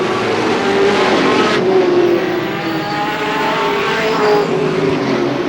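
Race cars roar around the oval at Star Speedway on the final lap, a loud, dense wash of engine noise that swells and fades slightly as the field passes, with no pause throughout.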